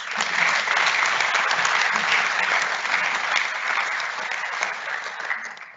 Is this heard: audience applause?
yes